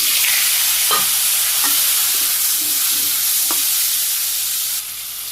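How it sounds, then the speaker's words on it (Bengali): Potatoes with onions fry in a pan in a simple village kitchen, giving a loud, steady sizzle with a few scraping stirs of a spatula, before the hiss drops noticeably near the end. "আলুগুলো হালকা ভাজি করছি"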